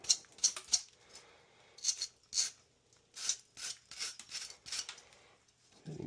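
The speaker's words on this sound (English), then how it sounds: "clean these off as best we can with our bristle brush." A bristle brush scrubs parts of a second-generation ICP furnace with a bad heat exchanger in short, uneven bursts of dry scratchy rasping, close by and alone.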